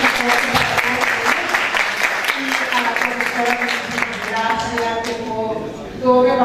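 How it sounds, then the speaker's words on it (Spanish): Loud audience applause in a university literature workshop room, filling most of the stretch with a voice talking over it, then thinning out near the end as speech takes over. "Muchísimas gracias, un aplauso fuerte"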